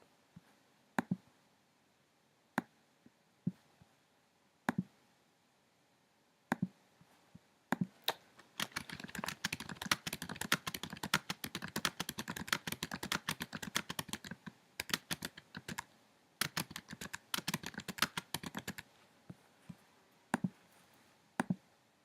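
Typing on a computer keyboard while creating text in Illustrator: a few scattered key taps at first, then a dense, fast burst of continuous clicking, trailing off into sporadic keystrokes, close and quiet with no voices.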